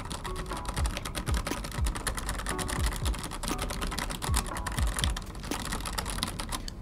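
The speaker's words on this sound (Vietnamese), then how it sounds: "Đây mình sẽ gõ thử cho anh em nghe." Fast, continuous typing on a DareU EK1280S mechanical keyboard with red switches gives a dense stream of close keystroke clacks and thocks at an even volume, with no talking.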